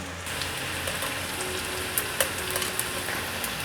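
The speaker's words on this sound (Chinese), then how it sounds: "油热了，把面肠放进来炸。" Gluten sausages deep-fry in hot oil, a dense even crackle and hiss close by, dotted with sharp pops and spits that grow more frequent, with no talk.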